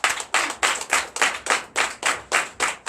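Church congregation at a Sunday worship service in Benin clapping in unison, a steady rhythmic beat of sharp group claps, about four per second, close and even with no voices over it.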